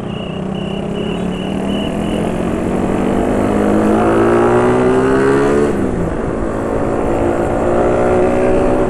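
A Honda C70-style motorcycle fitted with a Suzuki Satria engine drones steadily and climbs in pitch as it accelerates, then shifts gear and builds again, loud and close throughout.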